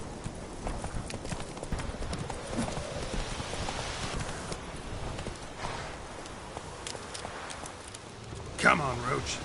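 Roach the horse gallops in The Witcher 3 with a steady, rapid clip-clop of hooves over ambient game sound, and a brief voice near the end.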